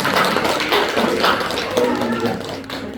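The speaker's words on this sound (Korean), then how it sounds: "박수 한번 다시 한번." A church congregation claps in a dense ripple of hand claps that carries on through the moment, with some voices mixed in.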